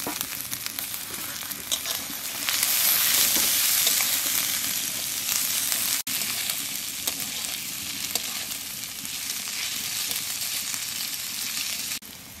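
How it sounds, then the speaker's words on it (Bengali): Onions sizzle and fry in a pan with ginger and garlic, a steady dense crackle that swells as the ingredients go in, with occasional stirring clinks and no talking. "পেঁয়াজ একটু ভেজে নিছি, এখানে দিয়ে দেব আদা আর রসুন।"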